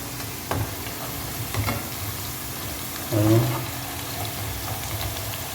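Egg-coated bread frying in a pan gives a steady crackling sizzle, close and moderate, with a few sharper pops and a brief low thump partway through.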